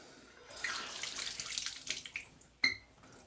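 Shower faucet opened to drain leftover pressure from the house's water lines after the supply is shut off, giving a faint hissing spray and sputter that tails off, ending with a sharp knock.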